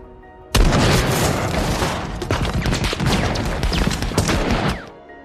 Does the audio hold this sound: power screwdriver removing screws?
no